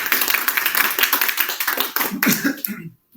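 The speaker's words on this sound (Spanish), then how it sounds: "Vamos a dar un aplauso" A small audience claps for a guest named Vicente after a talk on exposure therapy, a fairly close, uneven patter of individual hands with a few voices mixed in, cutting off abruptly near the end.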